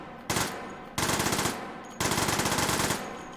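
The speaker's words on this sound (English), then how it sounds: "I'm only touching the trigger and it's firing 17 bullets" Three rapid automatic bursts from a cursed gun in the VR shooter Hot Dogs, Horseshoes & Hand Grenades, each a loud, fast stream of closely spaced shots, with brief pauses between bursts.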